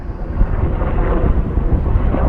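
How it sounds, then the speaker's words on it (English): A deep, rumbling roar of a military helicopter passes overhead, loud and churning, with wind buffeting the microphone. "It's like a military helicopter."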